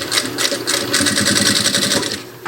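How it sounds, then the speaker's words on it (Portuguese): A sewing machine topstitching synthetic leather, running in a fast, even rhythmic chatter of stitches close by for about two seconds before slowing to a stop. "eu vou pespontar aqui, ó, aquele pesponto bem bonitinho"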